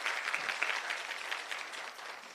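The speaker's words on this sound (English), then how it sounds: "I think you deserve a beautiful, conscious round of applause." A women's day celebration audience claps steadily throughout, a dense, sustained round of applause with no pauses, filling the room at a fairly even level.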